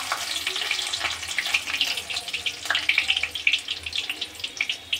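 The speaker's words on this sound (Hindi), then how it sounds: "कटा हुआ लहसुन डालेंगे," Chopped garlic sizzling in hot oil with cumin seeds, for bhindi bhujiya, a steady close crackling hiss with small pops and spatters throughout.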